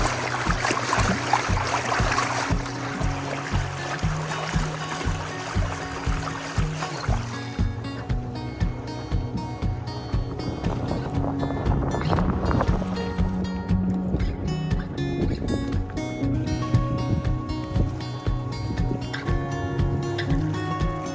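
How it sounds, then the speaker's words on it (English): Wind moving through reeds beside a quiet solar-powered boat on a cruise in Finland, a steady breathy rush with soft water and gusting wind noise against the microphone, no engine and no talking. "Hear the wind rustle through the reeds, not covered up by an engine noise."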